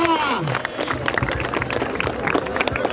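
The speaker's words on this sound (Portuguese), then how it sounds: "Palmas nessa batalha" Crowd at a freestyle rap battle in Barueri, São Paulo claps and cheers, a busy wash of hands and shouts running throughout, with a host's voice briefly over the start.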